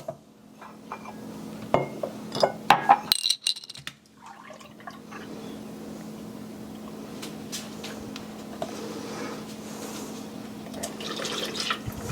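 Half and half is poured into a pan for coffee ice cream, starting with a few clinks and knocks against the pan and then a long, steady, soft liquid pour that runs on without talk.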